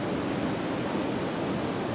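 Wren Falls in Iron County pours with a constant, full-bodied hiss and rumble of cascading water, near and even throughout, alone without talk.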